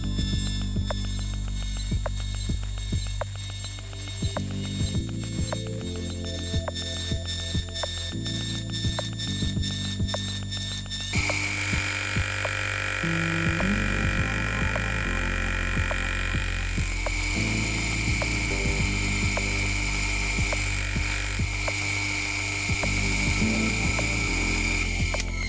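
A fly cutter machines the gear teeth of a brass crown wheel for an Antikythera Mechanism reconstruction, producing a steady whirring machine drone with fast rhythmic ticking and a pitch shift partway through. It continues without a break and no one speaks.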